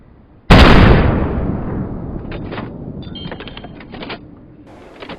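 A single loud, close rifle shot in the hunting game Way of the Hunter, set in Transylvanian woods, bursts out sharply and then rolls away in a long decaying echo with faint rustles after.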